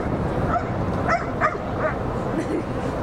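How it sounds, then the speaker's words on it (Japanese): A guard dog barks on its handler's command in short repeated bursts, fairly close, at an air base open-day training demonstration, over a noisy outdoor background with a voice faintly underneath. "このようにハンドラーの指示によって警備犬を吠えさせます。"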